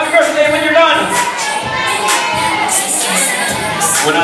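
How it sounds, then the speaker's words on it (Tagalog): A group of children shouts and cheers at a birthday celebration, a loud, dense crowd of young voices overlapping and sustained throughout. "Shout happy birthday when you're done!"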